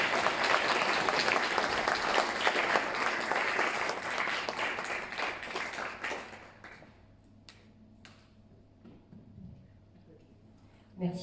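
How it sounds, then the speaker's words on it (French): An audience at a French town council meeting in Saint-Pair-sur-Mer applauds loudly and steadily for about six seconds for the newly declared mayor, then the clapping fades into quiet room murmur with a few scattered claps. "je vous invite à l'applaudir"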